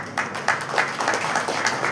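An audience at a book launch ceremony claps steadily in a dense, continuous round of applause that holds at an even loudness for the whole moment.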